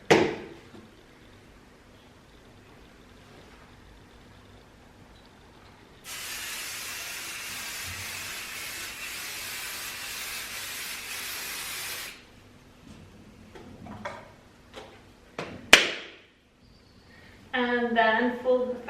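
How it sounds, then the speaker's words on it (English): A steady spray of quilt basting spray from an aerosol can hisses continuously for several seconds onto fabric, preceded and followed by quiet handling noises and faint clatter. "I'm just going to spray"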